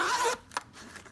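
A zipper on a suitcase compartment gives a quick, close rasping pull lasting about a third of a second, then a brief tug and soft handling noises.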